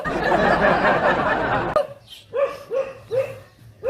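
A dense burst of noise gives way to a dog barking four times in a steady rhythm, sharp and fairly close.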